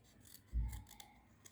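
A single short rasping snip of scissors cutting through paper while a paper rose is made, quiet and close, with no talk.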